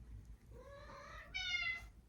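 A house cat gives a single drawn-out meow for attention, rising and then sharpening into a brighter cry near the end, fairly close in a quiet room.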